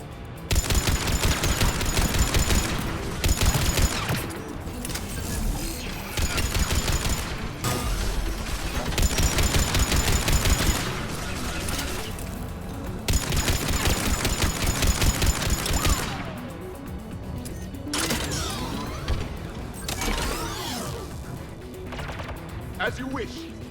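Turret gunfire in the video game Mass Effect Legendary Edition: loud automatic bursts in repeated long volleys with short gaps between them, with mechanical clatter in the pauses.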